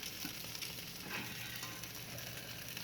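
Suya meat with a little peanut paste being stirred and turned in a pot, a quiet steady frying crackle with light stirring scrapes, fairly faint and unbroken by voices.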